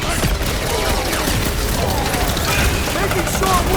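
Rocket's fireworks attack in the Guardians of the Galaxy video game, a dense, loud crackling barrage of bursts and booms filling the whole stretch, with shouted voices mixed in.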